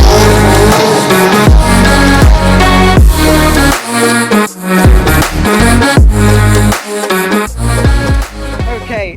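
A Ferrari supercar drives hard with a loud, close engine that rises and falls in pitch through repeated gear changes and throttle bursts, with tire noise mixed in throughout.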